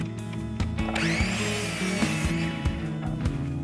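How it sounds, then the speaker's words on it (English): A miter saw slices through a scrap piece of wood at an angle, a steady whining cut lasting a few seconds with the motor's hum under it, close and fairly loud. "I then transferred the angle to another scrap piece and cut this angle with the miter saw."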